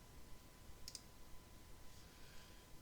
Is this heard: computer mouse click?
yes